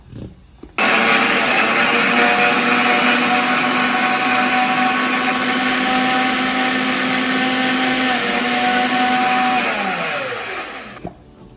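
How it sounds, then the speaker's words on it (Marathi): An electric mixer grinder grinds masala into a fine paste for Veg Maratha curry: a loud, steady motor whine that starts abruptly, runs for about nine seconds, then winds down and stops, with no talking. "इथं मिक्सरला दळून झालेला आहे अजून थोडा बारीक दळून घेऊ आपण"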